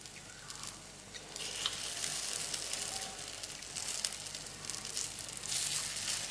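Chettinad kara kuzhi paniyaram batter fries in a paniyaram pan on low heat, giving a soft continuous sizzle with faint crackles that swell slightly toward the end, with no talking.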